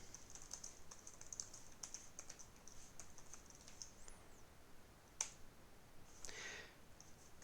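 Quick, light keystrokes on a computer keyboard come in short uneven bursts through the clip, faint and close, with no talking.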